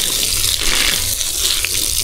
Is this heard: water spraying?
yes